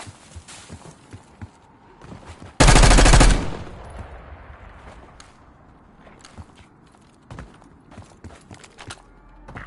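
Gunfire in the video game Warzone on Rebirth Island, a sudden loud burst of rapid automatic fire amid scattered shots and footsteps, with a distant game voice.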